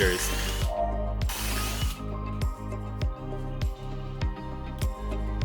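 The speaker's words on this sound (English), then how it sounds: "Switch to a larger drill bit and expand the hole to 7 mm." A close power drill whines and chatters while widening a hole to 7 mm in an e-bike frame, in steady pulses, with a few bursts of hissing noise early on.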